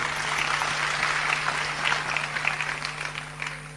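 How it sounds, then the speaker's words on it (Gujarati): Applause from the audience at a folk literature and santvani devotional gathering at an ashram, steady clapping that swells and holds throughout with a constant low hum underneath. "એકવાર તાળીઓથી વધાવો સાહેબ"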